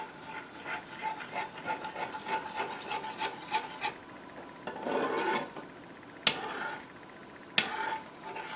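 A spoon stirs salt and pepper into Southern-style tomato gravy in a pan, making steady rhythmic scraping strokes, then a heavier scrape and two sharp knocks against the pan.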